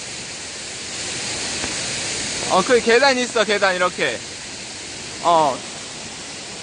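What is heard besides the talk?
Sojeongbang waterfall, Jeju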